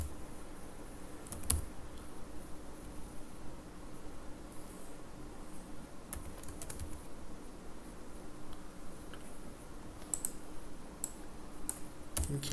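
Quiet typing on a computer keyboard during coding work, with scattered soft key clicks and a few louder taps spread across a faint, steady room hum.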